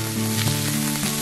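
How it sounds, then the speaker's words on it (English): Chopped red onion and curry leaves sauté in hot oil for a mutton curry, giving a dense, continuous close sizzle with light stirring, and no one speaks. "I'm just going to add that to the oil. Add few curry leaves and continue to saute the onions till they become soft."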